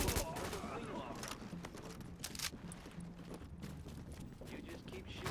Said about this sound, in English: You just keep shooting like that.